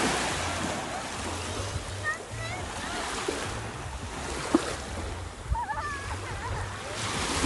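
Sea surf rolls onto a warm-water beach in a steady, continuous wash with wind buffeting the microphone, while voices talk faintly in the background.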